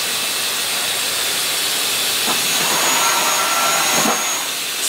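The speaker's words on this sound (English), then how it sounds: "The spindle will kick on." A Bridgeport Torq-Cut TC4G CNC mill spindle starting up in a machine shop, a steady loud hissing whir with a faint rising tone and a couple of small knocks.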